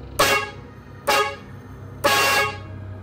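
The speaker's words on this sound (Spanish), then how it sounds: "así que toqué la bocina." Three separate car horn honks, evenly spaced about a second apart, loud and close with nothing else around them.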